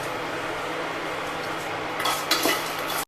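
Spices and nuts frying gently in a pan on a stove turned to low flame, a steady soft sizzle with a few brief scraping stirs near the end before it cuts off.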